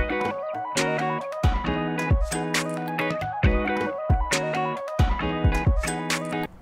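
A simple loop-based music project playing dry with no effects, only basic volume balancing; a punchy beat with repeating chord stabs and a melodic line in a steady rhythm, loud and alone.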